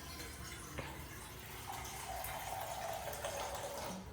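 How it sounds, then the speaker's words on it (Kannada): Water pours steadily into a pot while avarekalu uppittu (field-bean upma) is being cooked, a continuous low, soft filling sound lasting several seconds without any talk. "ತೆಳ್ಳಗೆ ಬೇಕಂದ್ರೆ ಜಾಸ್ತಿ ನೀರು ಹಾಕೊಳ್ಳಿ"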